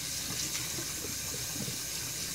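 Water running from a tap while scrub is rinsed off hands, a steady close splashing rush that fills the whole moment with no talk.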